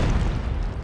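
A cluster poison weapon blows up on impact in the video game Worms: Ultimate Mayhem, a loud, dense burst with a heavy low rumble that fills the whole short moment without any break.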